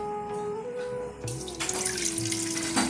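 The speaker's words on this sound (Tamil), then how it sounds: "ஒரு முக்கால் கப் தண்ணி ஊற்றிக்கங்க" About three-quarters of a cup of water is poured into a pan in a kitchen while making traditional coconut-jaggery candy, a short, close, splashing stream that rises in intensity toward the end.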